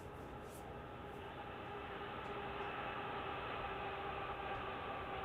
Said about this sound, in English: westbound train on the Santa Fe.